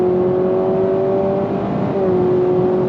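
A 2025 Honda Civic Hybrid Touring accelerates in sport mode from inside the cabin, its engine a smooth, steady hum with a faint tonal whine that rises slightly, loud and continuous.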